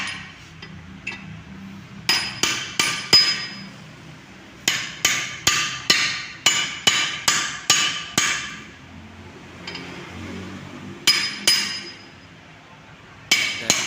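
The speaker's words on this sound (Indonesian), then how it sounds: "Ini dipalu." Hammer blows while taking apart a Toyota Kijang manual transmission, loud sharp metallic strikes in quick bursts of three to five, separated by short pauses, close and clear.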